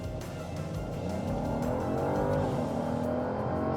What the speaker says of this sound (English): You put it into Sport Plus mode, and then you hold down the brake, and then floor the accelerator.